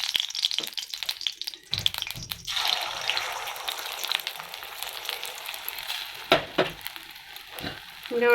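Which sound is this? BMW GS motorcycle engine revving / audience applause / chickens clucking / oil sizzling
oil sizzling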